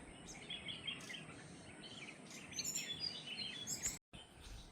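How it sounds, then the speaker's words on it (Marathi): Sparrows and other small birds chirp and twitter in quick bursts over a steady seaside hum of waves, with busier calls near the end and no talking. "ह्या चिमण्यांचा आवाज पक्ष्यांचा आवाज खूप छान वाटतं आहे"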